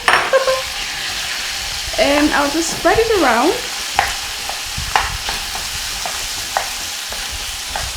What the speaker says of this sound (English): So all of the chicken pieces will go into the pan. The sizzle!